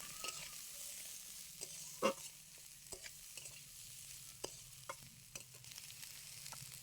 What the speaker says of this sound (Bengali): একই সাথে খুব ভালো করে ভেজে নেব